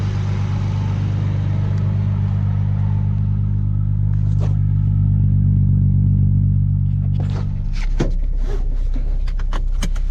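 A Nissan 350z engine idles with a deep, steady rumble close by, and a few sharp clicks and clatters break in near the end as the hum drops away.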